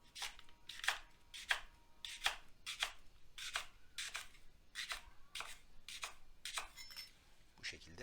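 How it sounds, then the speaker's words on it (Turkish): A knife chops leeks diagonally at even intervals on a cutting board in steady, evenly spaced strokes, about a dozen crisp cuts close by, with a brief spoken phrase partway through. "pırasalarımızı çapraz verevine tabir ettiğimiz şekilde eşit aralıklarla doğrayacağız"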